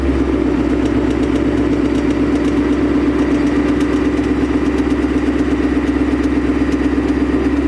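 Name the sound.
2020 Mustang 5.0 engine idling with a tick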